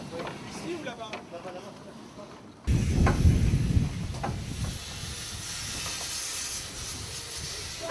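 A steam locomotive hisses while coupling to the head of a train, with a sudden loud burst of steam that settles into a sustained broad hiss, and voices talking underneath.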